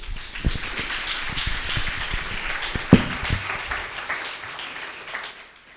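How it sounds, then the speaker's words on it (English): Audience applause for a speaker at a Healing Arts talk event: a dense, steady crackle of many hands clapping, fairly loud and continuous before fading slightly at the end, with no one talking over it. "And a warm applause again for Mazda Adli."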